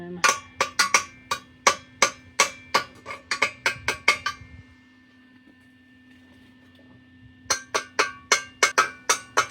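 Hammer blows on car metal during a Mustang GT to 2000 Cobra R conversion, struck in quick ringing bursts of about a dozen hits, a pause of steady shop hum, then another rapid run of close, loud strikes.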